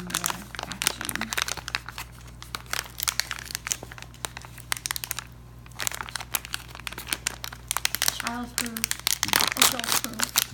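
Crinkly triangular plastic packaging of a squishy mochi toy is torn and crumpled open up close, a dense run of sharp crackles throughout, with a person speaking briefly over it.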